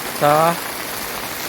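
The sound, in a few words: heavy rain falling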